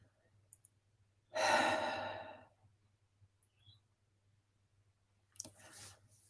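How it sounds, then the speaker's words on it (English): One long, deep exhaled breath, close and clear in a quiet room, followed a few seconds later by a shorter second breath, taken slowly during a grounding exercise centred on belly breathing. "Just grounding into yourself and breathing into your belly."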